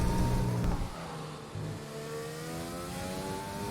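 F1 race car from F1 2020/2021 lapping the Red Bull Ring in Austria, its high engine note climbing through gears with shifts around the first second and a half, then a steady rising whine, loud and close with no talk.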